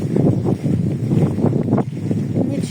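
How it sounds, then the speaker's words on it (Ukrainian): Strong gusty wind sweeps across a dacha garden plot, buffeting the microphone in repeated low roaring surges with no talk. "Щось сьогодні дуже вітряно."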